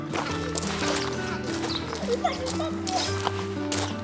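A large horse at a farm in Hokkaido is close by, with clopping and snorting sounds amid a busy outdoor background, while people's voices talk nearby.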